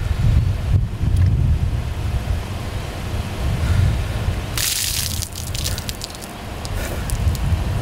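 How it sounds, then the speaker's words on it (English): Outdoors, with wind rumbling across the microphone, a bucket of ice water is dumped over a person for an ALS ice water challenge. It lands as a sudden loud splash midway, then drips and splatters follow. "And today, Trooper Ben, I'm accepting your ice water challenge to benefit ALS."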